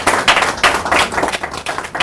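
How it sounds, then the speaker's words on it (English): Audience applause at a Liberian government and World Bank fisheries agreement signing ceremony, a steady burst of many hands clapping close by, with uneven swells throughout. "Another hand of applause."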